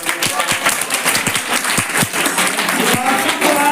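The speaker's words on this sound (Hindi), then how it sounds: "तालियां बजाइए।" Audience applause breaks out as competition results are announced, a loud, steady wash of clapping with distinct individual claps standing out, with some voices mixed in.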